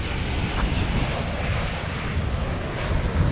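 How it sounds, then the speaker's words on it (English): An American Airlines Airbus A321 arriving at DFW Airport from Las Vegas, heard as a steady, broad jet roar that holds at an even level throughout, with no voices. "American 654 from Las Vegas is an Airbus A321, and that is our next arrival."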